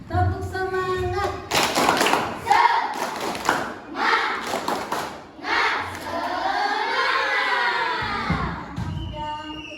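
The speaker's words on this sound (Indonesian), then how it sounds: "Tepuk semangat." Classroom students perform a rhythmic group spirit clap together, loud and close, with children's voices chanting and shouting over the patterned claps through most of the stretch.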